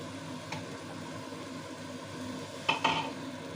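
A utensil stirs egg masala curry in a frying pan over soft, steady sizzling, with a faint scrape early on and a couple of louder metallic knocks near the end.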